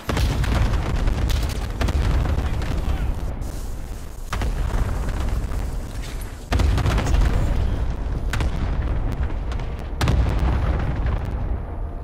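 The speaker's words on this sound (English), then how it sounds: "Allied cluster strike inbound." Explosions from an allied cluster strike in a combat video game boom one after another, several heavy low blasts spread over the clip with rumbling noise in between and no talk over them.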